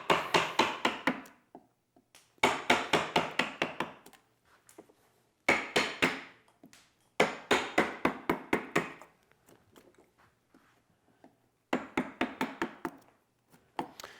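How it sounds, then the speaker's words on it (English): Wood chips are cut and lifted out for a rustic porch bench: sharp, rhythmic strikes come in fast bursts of several hits, separated by short quiet gaps, close and fairly loud. "we'll just start lifting the chips out"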